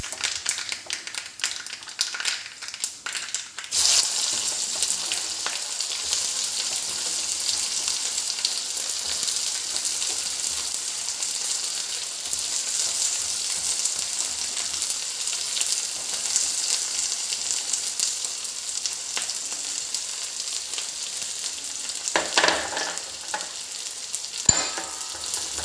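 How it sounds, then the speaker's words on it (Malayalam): Mustard seeds spluttering and onions frying in a pan for a restaurant-style Kerala egg curry, a steady close sizzle filling the whole stretch after a brief opening of scattered crackles, with a few louder pops near the end and no talking. "നമ്മുടെ കടുക് പൊട്ടുന്നുണ്ട്. നമുക്ക് നമ്മുടെ സവാള ഇടാൻ സമയമായിട്ടുണ്ട്."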